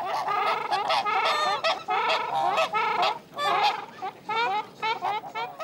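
Geese honking repeatedly at a zoo, a loud, close chorus of overlapping nasal calls in bursts with brief gaps, alone without speech.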